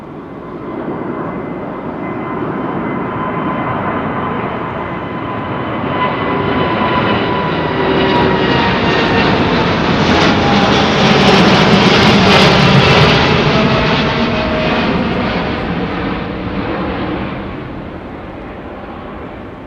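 A large airliner comes in to land at London Heathrow Airport, its jet engine roar building to a loud, close peak mid-way and then fading slowly away, with no voices over it.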